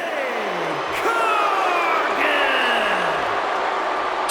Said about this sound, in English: So boos ringing around the stadium for the Women's World Champion